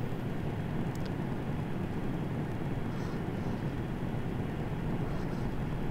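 F-86 Sabre jet in flight in War Thunder: a steady, dense roar of engine and rushing air that holds unbroken and loud throughout, with no talk over it.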